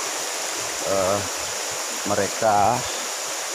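A river flows steadily through upper Mahakam forest, a broad constant wash of water running throughout, with someone speaking briefly over it in short bursts.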